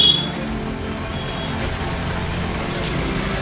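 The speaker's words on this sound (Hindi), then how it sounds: "काले बादलों से आसमान ढक गया और फिर बारिश की बूंदों ने तपती धरती को तर-बतर कर दिया" Heavy rain falling in Uttar Pradesh, a steady dense wash of rainfall on surfaces that stays constant and loud throughout, with no voices.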